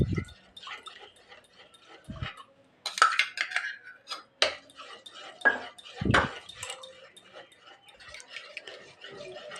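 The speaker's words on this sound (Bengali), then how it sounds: "এখন আমি দইটা এখানে দিয়ে দিব, দিয়ে ভালো করে মিশিয়ে নিব।" Spoon scraping and clinking against a bowl while yogurt is stirred into milk, sparse taps and knocks with quiet gaps between them, close and fairly soft, with no talk.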